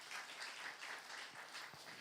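A church congregation applauding during a Saturday worship sermon, a continuous patter of many hands at moderate distance that rises and falls slightly, without clear talk over it.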